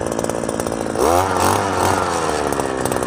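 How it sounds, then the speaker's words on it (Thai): A petrol earth auger drilling a fence post hole idles with a buzzing two-stroke rattle, then revs up under load about a second in. The engine note wavers as it bites, heard close and continuous. "โอเคเจาะเลยค่ะ"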